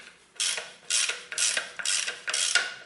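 A ratchet wrench loosens a transmission bolt on a Toyota Corolla with a VVT-i engine, giving four loud, close bursts of rapid metallic clicking separated by short pauses.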